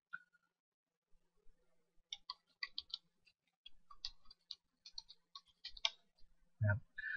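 Mouse clicks on a computer while setting up a quiz, a quiet irregular series of sharp clicks with a louder thump near the end, no voices.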